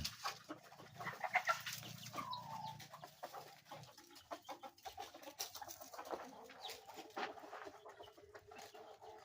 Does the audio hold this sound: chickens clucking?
yes